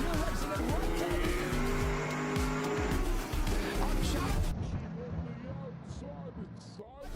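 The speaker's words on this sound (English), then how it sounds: "As the green flag is in the air, and the Porsche straight away tries to get it down." Race cars accelerate away from a green-flag start at the Abu Dhabi 6-hour endurance race, a dense loud roar of several engines with rising gear pulls, under continuous commentary.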